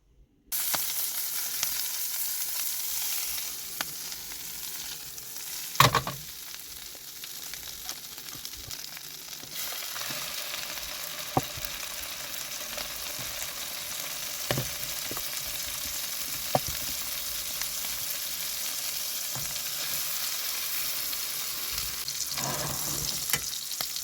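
Food sizzling and frying in a pan inside a small wagon while stealth camping, a steady close crackle with occasional stirring clatters and scrapes, no talking.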